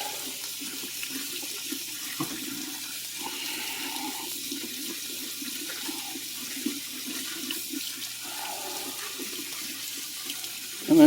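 Tap water runs steadily into a sink while konjac rice is rinsed, a moderate continuous splashing flow with slight shifts in tone, no talking.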